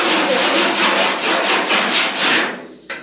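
A hand file is drawn back and forth to find high spots, making a loud, rhythmic rasping scrape of about eight quick strokes that stops near the end, followed by a single faint clack.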